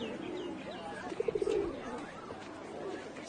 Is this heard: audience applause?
no